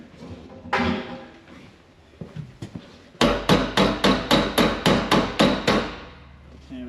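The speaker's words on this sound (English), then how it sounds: "now I need the hammer." Hammer blows during a snowblower repair: a few scattered knocks and clatter, then a steady run of about a dozen loud, evenly spaced metallic strikes close by.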